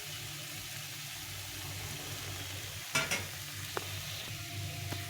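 Taro curry being stir-fried in a pan gives a steady low sizzle, with a few brief scraping clatters of a utensil against the pan near the middle and a couple of light knocks later.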